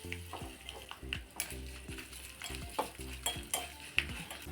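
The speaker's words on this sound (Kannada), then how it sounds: "ಈಗ ಒಗ್ಗರಣೆ ಹಾಕ್ತಾ ಇದ್ದೀನಿ." Tempering of mustard seeds, cumin, curry leaves, dried red chillies and asafoetida frying in oil for Brahmin-style tili saaru, with repeated stirring scrapes and crackling sizzle over a soft background, close and moderately loud.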